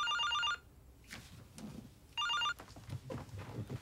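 An indoor telephone bell rings in two short electronic bursts with a pause between them. Soft footsteps and shuffling movement fill the gaps.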